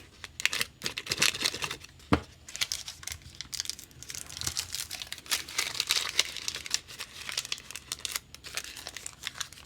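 Paper Santa shapes being cut out with scissors: close, irregular snips and crinkling paper rustles repeat through a quiet room, with no talking.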